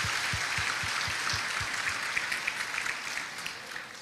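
Applause from a church-style class audience for pastor Ivanildo, a broad wash of clapping at moderate level holding steady for several seconds, with no talk over it.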